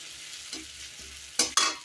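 Fried onion and eel-like baim fish in a little oil in a village kitchen, a soft low sizzle broken by two sharp, close scraping stirs near the end.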